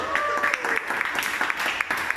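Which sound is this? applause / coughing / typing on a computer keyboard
applause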